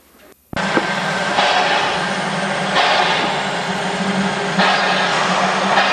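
A train engine runs close by on a sidetrack, a steady loud rumble and hiss that starts abruptly and holds throughout, with faint rail clatter underneath.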